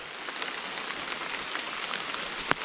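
Soft, steady rain pattering on a surface, a faint continuous hiss with a few slightly louder drops.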